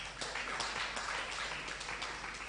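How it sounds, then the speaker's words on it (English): Audience applause for a speaker at an event, a steady wash of many hands clapping, moderately distant and even, with no pauses. "A round of applause for Sister."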